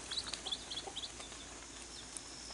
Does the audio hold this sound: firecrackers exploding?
no